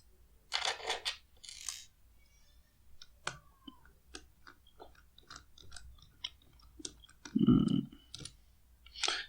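Small screws are undone to open a CCTV camera, making a series of close, sharp clicks and scratchy ticks with scattered handling rustles and a brief low thump near the end.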